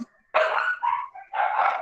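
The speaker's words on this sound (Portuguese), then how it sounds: "os cachorros começaram a latir bem na hora da aula" Dogs barking at home during an online class, a few short, sharp barks in quick succession, close and fairly loud, with no talking over them.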